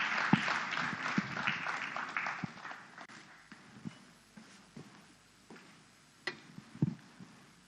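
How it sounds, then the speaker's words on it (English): Audience applause in a large hall at the opening ceremony of a customs conference, a steady wash of clapping that gradually thins out, with a few sharper individual claps standing out near the end. "Please, let's appreciate the distinguished senator with a round of applause."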